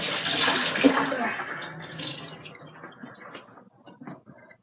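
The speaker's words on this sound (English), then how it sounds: "get the water out of some roving." Wool roving for dyeing is squeezed and wrung by hand, giving wet splashing, dripping and sloshing water sounds that start fairly loud and thin out into scattered drips, close to the listener with no speech.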